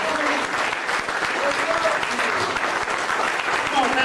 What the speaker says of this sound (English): Keep your hands going. Keep your applause going.